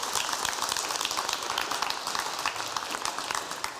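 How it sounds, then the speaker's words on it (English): A crowd at a county candidate forum applauds lieutenant governor candidates with dense, continuous clapping that stays loud throughout, then eases slightly toward the end. "let's give a great round of applause for our lieutenant gubernatorial candidates"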